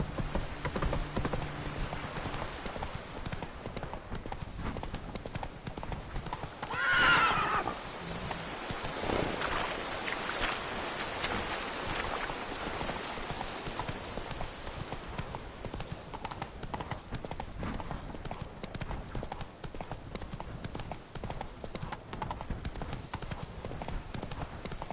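Roach the horse gallops in The Witcher 3: Blood and Wine, with a steady, continuous run of hoofbeats under a hissing, rain-like ambience.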